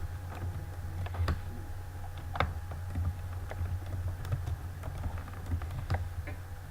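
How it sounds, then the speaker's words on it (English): Typing on a computer keyboard: soft, irregular key clicks tapping close by in quick bursts over a low, steady room hum, with no voices. "Type in the name and description of the unit."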